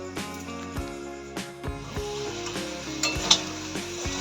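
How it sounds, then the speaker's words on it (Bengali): Potato and soybean sizzle in a pan, with a ladle repeatedly scraping and clinking against the metal in an uneven rhythm, close and fairly quiet. "আলু সয়াবিন কষা করছি"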